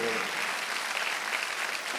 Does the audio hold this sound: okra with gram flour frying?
no